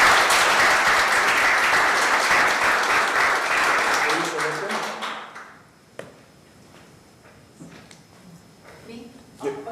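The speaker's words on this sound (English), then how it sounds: "you can hear because you're clapping" An audience claps at a city council meeting: dense, steady applause for about five seconds, then it dies away into a quiet room with scattered taps and a few spoken words.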